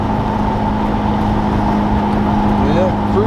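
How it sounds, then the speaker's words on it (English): 1991 Eagle Talon with a new Deatschwerks fuel pump on a test drive, a loud steady engine and road drone heard from inside the car. "So now we're just going to take it for a ride and make sure the fuel pump's keeping up."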